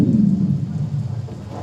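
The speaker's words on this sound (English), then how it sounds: "Friedrich, you guys aren't afraid of a thunderstorm, are you?" Thunderstorm sound effect in a 2016 high school stage production of The Sound of Music: a brief, deep, rolling rumble that swells at once and slowly fades over under two seconds, with no voices over it.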